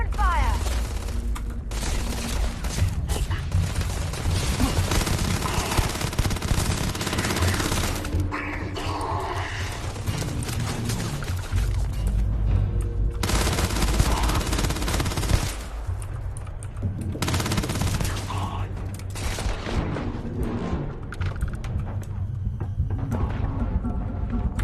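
Automatic weapons fire in bursts during a firefight in the space game Starfield: loud, dense rattling volleys with heavy booms, broken by short pauses, with a voice occasionally heard under the shooting.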